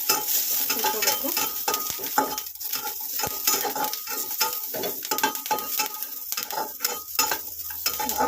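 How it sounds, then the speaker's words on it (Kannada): Green chillies frying in everyday cooking oil, a steady sizzle broken by repeated scraping and clinking stirs of a utensil against the pan, close and continuous. "ಇದಕ್ಕೆ ಸ್ವಲ್ಪ ನಾನು ಎಣ್ಣೆ ಹಾಕೋತೀನಿ, ಮಾಮೂಲಿ ಅಡುಗೆ ಎಣ್ಣೆ ಸ್ವಲ್ಪ ಹಾಕೊಂಡು ಉಟ್ಕೋಬೇಕು."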